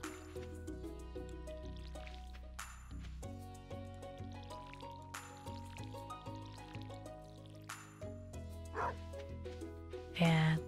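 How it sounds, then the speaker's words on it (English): A dog barking in Stardew Valley, a few short yaps heard faintly under game music and watery dripping effects, with a louder bark near the end. "Dog."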